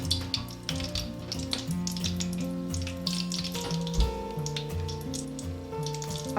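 Date-and-dry-fruit samosas frying in hot ghee over a low flame give a steady soft sizzle, partly masked by tonal background music throughout.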